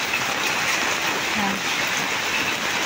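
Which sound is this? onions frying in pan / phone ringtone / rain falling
rain falling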